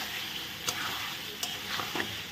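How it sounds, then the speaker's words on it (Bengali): Goat liver coated in plenty of spices being stirred in a hot pan, a steady close sizzle and frying hiss with a few sharp scraping taps of the spoon against the metal. "মেটোটা দিয়ে আমি এখন ভালো করে নেড়ে নেব।"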